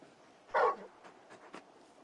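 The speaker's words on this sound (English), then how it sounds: "You're just a big puppy, aren't you?" Large dog companion in the Final Fantasy XVI video game gives a single short bark or yip, loud and close, followed by a few faint softer sounds in a quiet scene.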